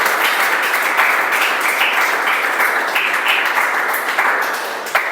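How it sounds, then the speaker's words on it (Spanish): A church congregation claps steadily in a sustained wash of applause that stays loud and even throughout, with a few sharper claps standing out near the end. "Eso merece un aplauso, iglesia."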